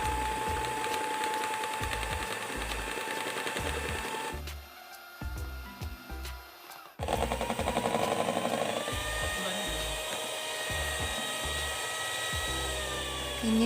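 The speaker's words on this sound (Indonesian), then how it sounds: "Mixer dengan kecepatan tinggi kurang lebih selama 3 menit." An electric mixer beats three egg whites at high speed with a close, steady, buzzing motor whine. It pauses briefly for a couple of seconds, then runs on just as loudly.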